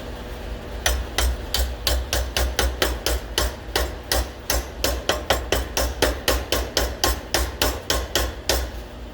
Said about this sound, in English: I'm gonna go ahead and tap it down a little bit